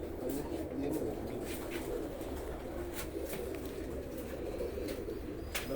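UAE pigeons coo softly and continuously against a steady low outdoor hum, with brief faint clicks now and then and no voices.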